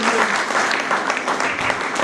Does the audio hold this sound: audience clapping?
yes